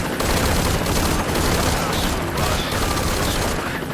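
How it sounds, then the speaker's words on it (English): Dense, continuous rapid gunfire from the stealth action game Metal Gear Solid V: Ground Zeroes, loud and sustained with overlapping bursts and no pauses. "That is a lot of damn bullets into you."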